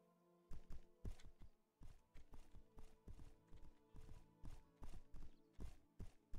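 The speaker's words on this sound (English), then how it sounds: "The horse is running up." Horse hooves pound the ground in a steady galloping clip-clop rhythm in the video game My Horse: Bonded Spirits, with crisp repeated hoofbeats heard close and alone.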